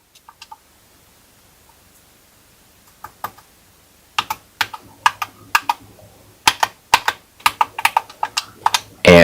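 Computer keyboard keys pressed to map a game controller on a cheap homemade plug-and-play game console: a few scattered early clicks, then quick, clear bursts of close, crisp keystrokes in an uneven rhythm, with no talking.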